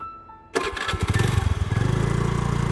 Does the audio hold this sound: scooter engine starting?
yes